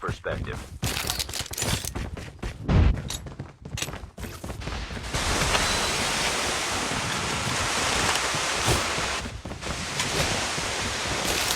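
Bomb explosions in a video game: a deep, heavy blast near the three-second mark, followed by a loud, sustained roar of rumbling noise like continuous gunfire and debris that carries on to the end.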